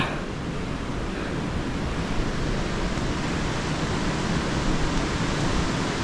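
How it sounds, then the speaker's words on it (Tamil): Steady roaring wind blows across the microphone at the Vellimalai Sivan hill temple, Sirumalai, a dense broadband rush with low gusty rumble, continuous and loud for the whole stretch. "இந்த காற்று சத்தம்"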